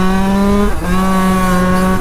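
A tuned 50cc moped engine revs hard with a slipping clutch, giving a loud, sustained buzzing whine that drops in pitch briefly and then climbs steadily again.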